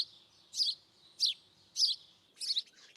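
Bright, repeated chirps from a house sparrow on a city street, four or five evenly spaced notes ringing out alone, near and clear, with a faint higher whistle between them.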